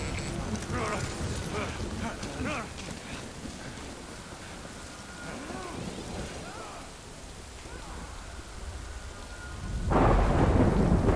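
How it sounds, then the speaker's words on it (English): Rain and thunder in the video game Death Stranding: a steady wash of rainfall with low rolling thunder throughout, swelling louder near the end, with faint game voices underneath. "Good thing it was raining."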